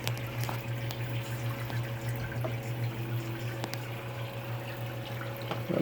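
Water runs steadily into a container indoors, a continuous filling sound with a low steady hum beneath it and a few faint clicks, even and unbroken throughout.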